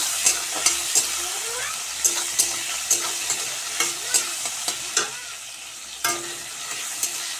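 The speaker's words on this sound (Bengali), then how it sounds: "তেল গরম হয়ে গেছে, এখানে আমি টমেটো দিয়ে দিয়েছি। ভালো করে এটাকে আমি ভেজে নেব।" Tomatoes frying in hot oil for a paneer dish, a steady sizzle broken by repeated scraping stir strokes every second or so, close and clear with no voices.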